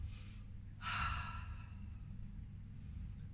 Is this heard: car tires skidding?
no